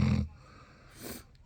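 An old dog snores heavily, a deep rasping breath fading out and then a softer, breathy inhale, close and alone in a quiet room.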